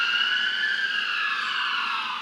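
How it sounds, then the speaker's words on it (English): An ambulance siren wails past a front yard in town, a loud steady tone sliding gradually lower in pitch as the vehicle goes by, with no talk over it. "Wow, there you go, ambulance."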